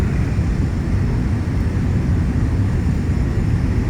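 Steady, loud broadband roar of a Premier 1A business jet in flight, heard from inside as a constant low-heavy engine and airflow drone with no talking.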